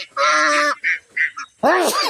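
Ducks quack loudly and close by, a long harsh call followed by a few shorter ones and another burst of overlapping calls.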